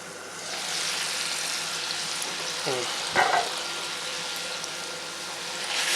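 Pieces of meat frying on a preheated microwave grill pan, a steady loud hiss of sizzling with a brief clatter midway as the pieces are turned.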